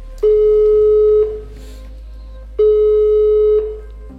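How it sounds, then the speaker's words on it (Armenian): Two long, steady ringback tones of a phone call sound in turn, each lasting about a second with a pause between, loud and clear over a low hum. "Հեռախոսազանգ ունենք։"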